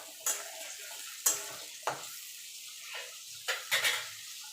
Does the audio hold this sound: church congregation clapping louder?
no